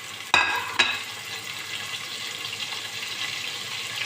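Green chillies and cumin dropped into hot oil in a pan for garlic rice: two sharp crackling bursts as they hit, then a steady soft sizzle running on alone.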